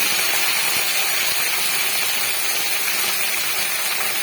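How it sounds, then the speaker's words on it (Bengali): Boiled taro sizzling in hot oil, a steady dense hiss of frying with no talk over it. "এখন আমি এই তেলের মধ্যে সেদ্ধ করে রাখা কচুটা দিয়ে কচুটাও ভেজে নেব।"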